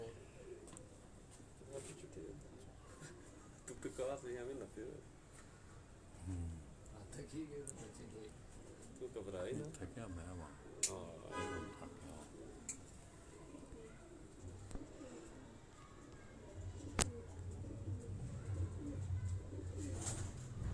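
Pigeons coo softly in low, rolling calls while someone talks over them, with a few sharp clicks and rustles nearby.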